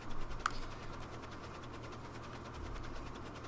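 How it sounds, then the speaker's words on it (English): A DX Goods steam train pulls into a station in Transport Fever 2, a quiet steady rumble and rhythmic chuffing at a distance, with a faint chime near the start. "And if this train comes into the station,"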